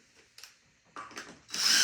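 Screw gun driving screws into a wooden post stand: brief whirring bursts, then a loud sustained high-pitched drive at the end, close by, with no talk.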